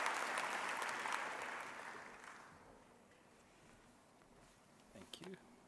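Fairly faint audience applause at a university autumn graduation ceremony, fading out over the first couple of seconds into near quiet, with a brief voice toward the end.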